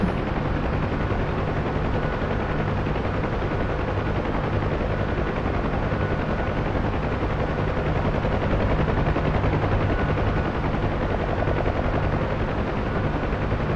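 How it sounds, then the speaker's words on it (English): A UH-1H Huey helicopter in the DCS flight simulator drones steadily with a dense, continuous rotor and engine roar heard from inside, loud and unbroken throughout with no speech. "there's another helicopter up there"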